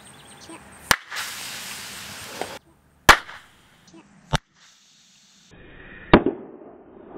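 A Dr Pepper can heated under a solar magnifying glass bursts in several sharp, loud pops spread over a few seconds, with hissy noise in between.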